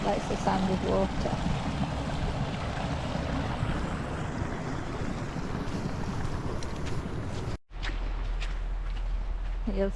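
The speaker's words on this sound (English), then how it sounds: "Likes the sound of water." Stream water flows along the Pennine Way in a steady broadband rush, mixed with wind buffeting the microphone, and cuts out briefly before continuing.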